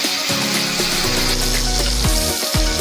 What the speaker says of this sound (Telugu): ఇది బాగా మెత్తగా ఫ్రై అవ్వాలి ఫ్రెండ్స్.